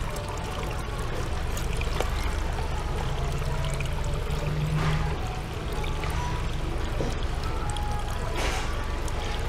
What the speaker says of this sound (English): You're going to have some splash on any fountain running.